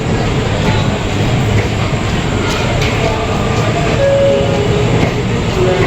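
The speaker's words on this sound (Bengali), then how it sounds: "তো এই ট্রেনটা ছেড়ে চলে যাচ্ছে 2 নম্বর প্ল্যাটফর্ম থেকে।" A train pulling away from a station platform rumbles steadily and loudly, a dense continuous roar with faint rail squeal, heard close from the neighbouring platform.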